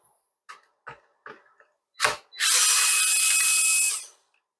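Torx T8 screws come out of a Dyson V8 cordless vacuum: several small tool clicks, then a close, loud whirr of an electric screwdriver that lasts well over a second.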